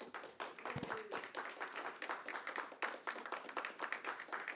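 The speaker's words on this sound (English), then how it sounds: "can we calm down with the clapping?" Audience members at a county council meeting clap steadily, a dense run of sharp, fairly close hand claps continuing unbroken throughout with no talk over it.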